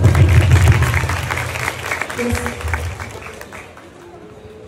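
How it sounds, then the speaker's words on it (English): Audience applause at a school English club demonstration, a mass of clapping mixed with crowd noise and a brief spoken word, loud at first and then fading steadily over a few seconds. "Give applause first."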